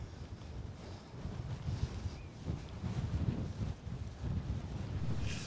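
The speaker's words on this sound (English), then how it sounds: "there's a gusty old wind flap blowing up here" Gusty wind buffets the microphone on an exposed hilltop, a loud low rumble swelling and easing in irregular gusts, heard alone without voices.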